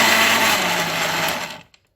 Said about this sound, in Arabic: واستنوني هضرب دول في الخلاط وارجع لكم